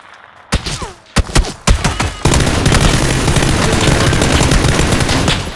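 Bursts of gunfire in PUBG: a few separate loud cracks and short volleys, then sustained heavy automatic fire roaring without pause to the end, close and loud, no voices.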